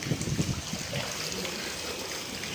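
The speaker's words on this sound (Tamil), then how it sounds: "டேங்கில் தண்ணி போகிற மாதிரி இருக்கு" Water pours and trickles steadily into a container, a continuous hissing gush, with a few faint low thumps at the start.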